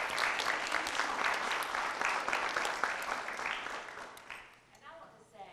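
Audience of educators at a professional development session applauding the instructional team, a steady round of clapping that fades near the end.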